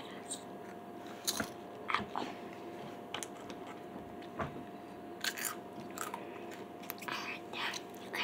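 Close, quiet crunching bites into salt and vinegar potato chips, a handful of sharp crisp snaps spread across the clip with softer chewing between them, no talking.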